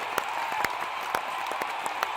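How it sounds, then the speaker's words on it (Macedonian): Studio audience applause on a comedy news show, steady moderate clapping from a crowd with a few sharper individual claps standing out, and no talking over it. "Аплауз сега."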